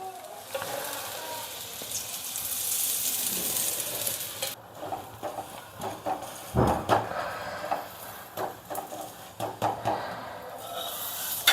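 Onion potato paratha frying in ghee in a pan, a steady close sizzle that drops away midway, followed by scraping and stirring clatter.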